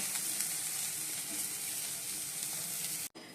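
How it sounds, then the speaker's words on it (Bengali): Bitter gourd and potato slices fry in a home kitchen pan, a dense, even sizzle held close and loud that cuts off briefly near the end. "এই বন্ধুরা উচ্ছে আলু ভাজা"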